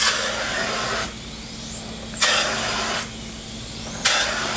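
A vacuum cleaner whines steadily while cleaning damp upholstered furniture, its pitch surging louder in regular passes about every second or two as it moves back and forth.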